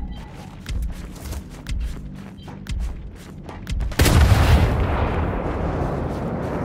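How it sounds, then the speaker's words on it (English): A bomb detonates in the video game Gears 5 during a Lethal Engagements match on Master, a heavy sudden blast with a long rumbling tail, following a run of rapid muffled gunfire bursts. "Bomb just touched off!"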